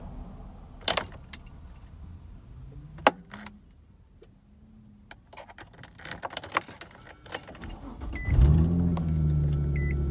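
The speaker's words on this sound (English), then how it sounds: "insert the key back on, turn it on into the on position, engine on" Keys jangle and click in the ignition of a 2004 Infiniti G35 coupe, a few scattered clatters, then the engine turns over and settles into a steady low running hum.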